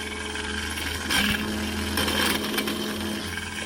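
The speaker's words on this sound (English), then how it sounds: "As you can see, it's got a bit of bite as you engage the cutter." A power case trimmer cuts brass rifle cartridge cases, giving a steady close motor whine with a brief harsher surge as the cutter engages the brass.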